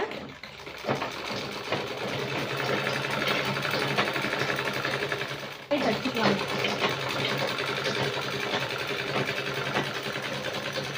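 A sewing machine runs almost continuously while stitching a folded hem on a back piece, a close steady mechanical whirr with one brief pause partway through, and a voice talks over it.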